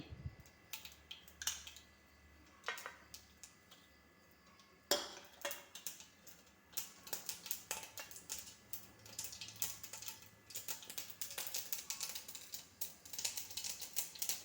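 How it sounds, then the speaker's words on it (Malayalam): Mustard seeds popping in hot oil left over from frying brinjal in a kitchen pan, a dense run of sharp crackling pops that grows busier and louder after the first few seconds, with no talking. "കടുക് പൊട്ടിയിട്ടുണ്ട് പൊട്ടിത്തെറിക്കുന്നു"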